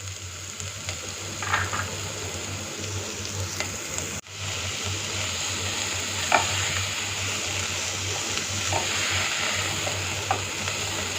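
Capsicum sautéing with onion in a pan over heat, a steady close sizzle broken by occasional scrapes of a spoon stirring, with a low background hum running throughout.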